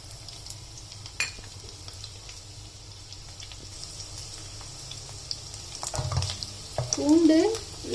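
Garlic dropped into hot oil in a wok-style pan on the stove, giving a faint steady sizzle that swells into louder crackling frying near the end.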